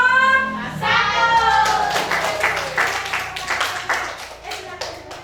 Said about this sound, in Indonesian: Kita beri aplaus untuk kelompok satu.